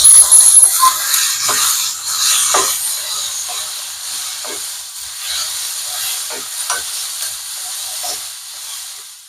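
Bottle gourd and chopped tomato frying in a pan while being stirred, with a steady sizzling hiss and occasional scraping strokes of a spoon, fairly close and continuous.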